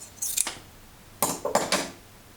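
Large scissors handled at a Pfaff 211 sewing machine, a few sharp metallic snips and clicks, one early pair and a quick cluster of three later, close and crisp against a quiet room.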